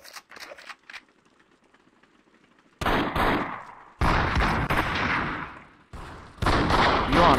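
Rapid bursts of gunfire in the VRChat video game: loud, dense volleys cut in after a quiet stretch, stop briefly, then resume in two more sustained rattling runs.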